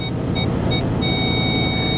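Rear parking sensors on an Aston Martin V8 Vantage give short electronic beeps, spaced and then held steady, over the loud low rumble of the running engine close by.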